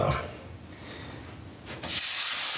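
A coffee-rubbed T-bone steak hits a hot pan, bursting into a loud, steady searing hiss after a quieter moment of low rustling.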